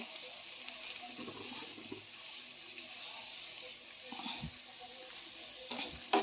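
Ridge gourd is stirred in a pan with onion-garlic masala, coriander powder and crushed peanuts: a steady close sizzle with soft scraping stir strokes and no talking.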